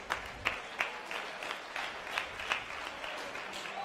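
Arena crowd at an MMA fight night applauding both fighters after the bout, dense steady clapping with occasional sharper claps and whoops, moderately distant and filling the hall.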